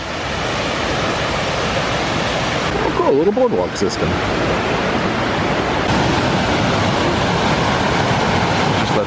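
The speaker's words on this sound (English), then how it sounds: "I hear the water getting louder." Steady, loud rushing water beside a rainforest boardwalk near Ketchikan, a constant close roar, with a person speaking briefly over it partway through.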